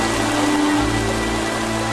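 A sudden rain shower pours down over a mountain village, a dense, steady hiss of rainfall hitting surfaces that fills the whole stretch evenly and loudly with no voices.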